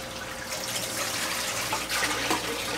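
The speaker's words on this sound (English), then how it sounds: "just splashed bilge all over me" Bilge water in a 1977 boat splashes and sloshes continuously at close range, a brief wet gush without any voices.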